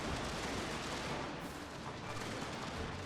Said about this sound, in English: That's my artillery coming in.